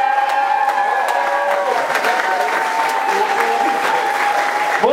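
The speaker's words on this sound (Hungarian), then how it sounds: "Azért egy tapsot családnak kérünk szépen a végére." Steady applause from a crowd at a camp's grand finale fills the whole stretch, loud and even, with a sustained musical tone lingering underneath.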